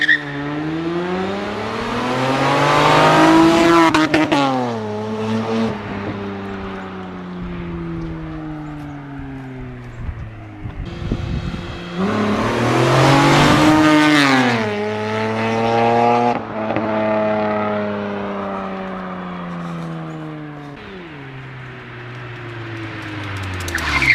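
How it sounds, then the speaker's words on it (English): A loud Honda with an aftermarket exhaust revs hard on dry pavement, pitch rising and falling through two strong passes, engine tone up close and dominant with no talk. "I'll just do a quick dry pavement flyby, just so you guys can hear what it sounds like"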